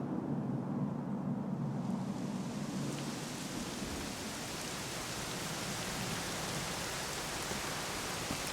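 Steady, dense rainfall hisses continuously, with a low rumbling undertone like distant thunder, no voices.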